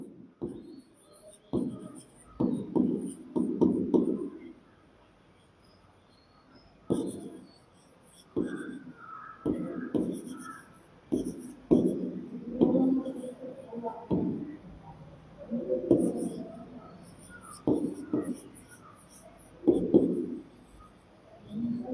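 A pen scratches across exam answer paper in short bursts of strokes with brief pauses, close and fairly soft, while a voice speaks intermittently between the writing.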